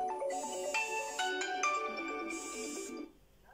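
A T68 smartwatch plays a bright, melodic ringtone for an incoming call, loud and close, its tones rising and shifting for about three seconds before cutting off.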